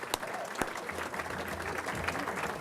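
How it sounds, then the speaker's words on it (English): An awards-ceremony audience applauds at a sports hall of fame event, a soft, steady patter of clapping with a few sharper nearby claps standing out. "it's not out of order to applaud him again."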